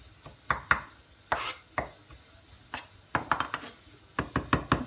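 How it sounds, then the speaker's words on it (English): Onions chopped with a knife on a board for a bhaji, sharp close knocks in uneven clusters, some quick runs of several cuts and some single strikes. "Let's give them another chop over"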